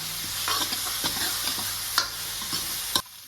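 Pumpkin curry with green chili roasting in a pan, a continuous sizzle with regular scraping stirs about every half second, then cut off abruptly.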